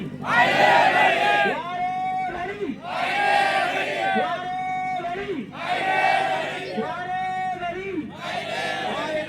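Crowd at a political rally chanting a slogan in unison, four long rhythmic shouted phrases repeated at steady intervals, loud and massed with a low background hum.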